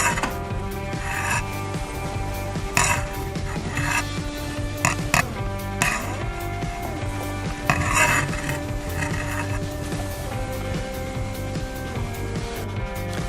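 Oiled idli plates are handled while wheat-flour puttu dough is filled into them, producing irregular close metallic clinks, knocks and scraping rubs.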